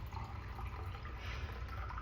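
Nikken water pouring into a reused juice cup, a steady close liquid trickle and splash running throughout with no voices.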